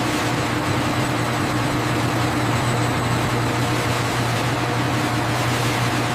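A disc centrifuge in a sunflower oil factory, its bowl spinning at 7,000 rpm, gives a loud, constant mechanical hum and whir with steady low tones and broad noise, unchanging throughout.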